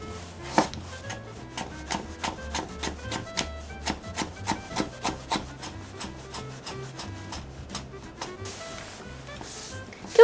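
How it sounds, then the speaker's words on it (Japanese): A knife chops carrots into thin strips on a cutting board, a steady run of close, crisp knocks at an even rhythm that slows and thins out toward the end. "人参は細切りにしていきます"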